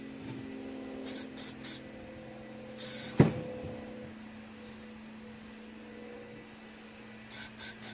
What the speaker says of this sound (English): I'm going to take some carb spray, clean out this varnish here.